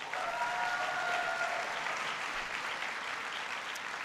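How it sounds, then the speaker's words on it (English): Steady applause from an audience at a Michigan State event honoring Ben, with a few tonal voices or cheers faintly woven in over the first second and a half, holding full and even for about four seconds. "Give Ben a big round of applause."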